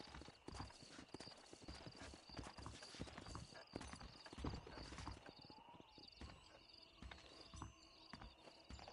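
Video game horse hooves clip-clop in a steady walking rhythm, soft and somewhat distant, with a brief whinny mixed into the quiet background.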